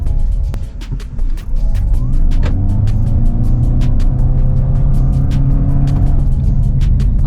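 A Toyota Yaris Cross Hybrid 1500 cc SUV engine revs up and pulls hard, its tone climbing steadily as it accelerates, loud and close, with clicking noises from the cabin.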